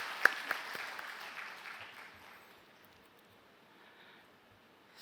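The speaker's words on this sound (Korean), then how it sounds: "하나님께 영광의 박수 올려드리겠습니다" A church congregation gives a brief round of applause at a Wednesday service in Daegu, Korea; a few sharp claps at the start fade quickly into a soft, diminishing patter that dies away.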